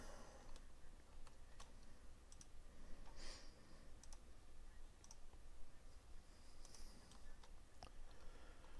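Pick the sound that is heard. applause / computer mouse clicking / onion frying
computer mouse clicking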